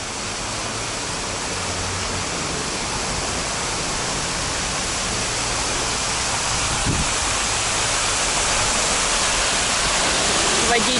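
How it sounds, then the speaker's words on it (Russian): A waterfall roars steadily and loudly, its dense rush of flowing water continuous and unchanging for the whole stretch. "Прикольный тут этот водопад."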